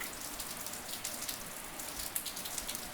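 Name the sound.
rain falling in Rio de Janeiro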